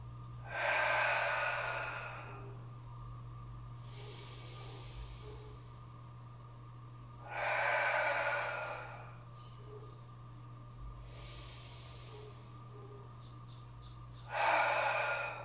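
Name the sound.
deep breathing during mobility stretch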